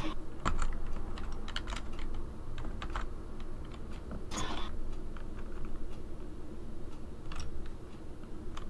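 Someone types on a computer keyboard, uneven runs of light clicking keystrokes with brief pauses, fairly quiet and close.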